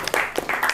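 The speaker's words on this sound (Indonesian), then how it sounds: "tepuk tangan buat kita semua" Brief burst of audience applause in a school classroom setting, scattered claps at moderate volume with a voice briefly mixed in.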